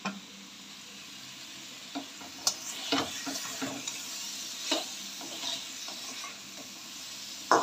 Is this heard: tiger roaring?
no